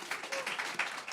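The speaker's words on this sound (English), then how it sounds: "everybody give Emma a round of applause" Short burst of audience applause following a sermon segment, a dense wash of clapping at moderate level with a faint voice briefly under it.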